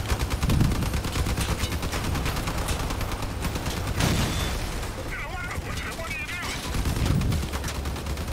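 Vehicle-mounted guns fire in the car combat video game Crossout, a dense stream of rapid shots with occasional heavier booms running throughout, while a person talks over the gunfire.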